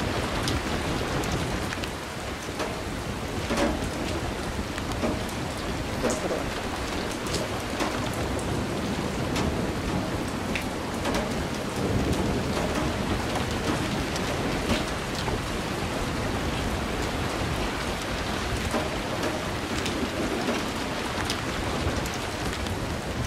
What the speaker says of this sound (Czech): Že prší, jo.